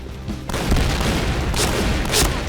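A grenade blast in the shooter game Point Blank: a loud booming burst followed by rumbling gunfire and further sharp bangs, with no talk.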